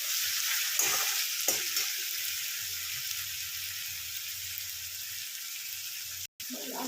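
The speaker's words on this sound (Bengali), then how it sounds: "এইবার এটাকে ভালো করে কষাবো।" Boal fish kaliya frying in a pan with spices as it is stirred: a steady, close sizzling hiss with a few sharp spatula scrapes near the start, and a brief drop-out near the end.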